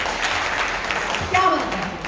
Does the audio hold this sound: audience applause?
yes